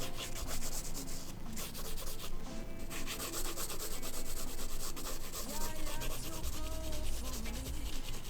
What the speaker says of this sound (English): Do a little bit of shading.